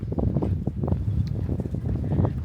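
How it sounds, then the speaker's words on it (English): Steady gusty wind on the deck of the cruise ship Quantum of the Seas buffets and rumbles across the microphone, low and continuous, with no talking. "As you can hear, it's a little windy"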